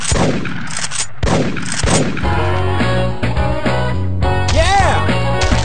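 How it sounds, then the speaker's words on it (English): Rifle shots in the Big Buck Hunter Pro hunting game for iPhone, a few loud sharp cracks early on followed by game music and effects, with voice-like sounds mixed in. "That's some nice shooting."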